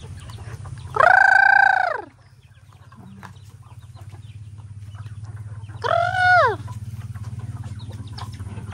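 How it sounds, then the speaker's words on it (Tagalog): Chickens call out in two loud, drawn-out bursts a few seconds apart, standing over a steady low mechanical hum. "Mga manok ni tatang mga kakups."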